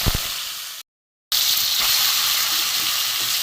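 Lotte fish coated in salt and turmeric fry in hot oil in a heated pan, producing a loud, close, continuous sizzle broken by a brief moment of silence.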